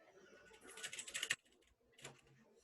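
Someone types on a computer keyboard in a quick burst of close, crisp key clicks, pauses, then adds a few more keystrokes.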